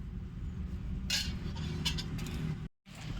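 A lid is set over a pot of fish curry on a wood-fired stove, giving a couple of sharp metallic clinks over a steady low crackle and rumble of fire, then a brief dropout.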